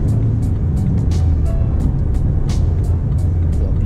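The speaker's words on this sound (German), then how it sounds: "So, jetzt geht der 5. Gang." A car cruises in fifth gear during a driving lesson, a loud, steady low engine drone with road rumble and regular faint ticking throughout.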